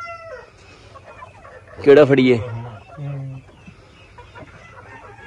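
Chickens and roosters in a small poultry pen let out a few short clucks and squawks, with one louder burst in the middle, while someone talks nearby.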